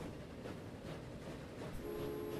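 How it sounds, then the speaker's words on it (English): A train in a city-building game of Manchester rolls along faintly with a low rumble, then a thin, steady horn tone sounds near the end. "I want to get this train"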